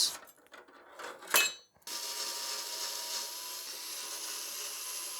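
An old graphics card is worked out of an ATX PC case: a flurry of close clicks, knocks and scrapes, a brief pause, then a steady hiss for the rest.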